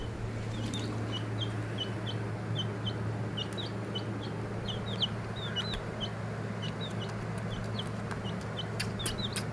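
Chickens cluck in repeated short, scattered calls at a moderate distance over a steady low hum, continuing across nearly ten seconds.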